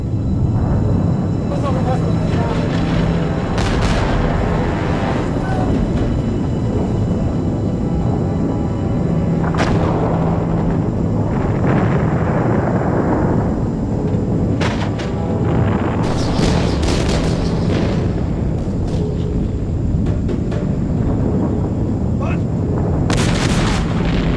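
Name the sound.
bombing explosions from B-52 bombers, Christmas bombing campaign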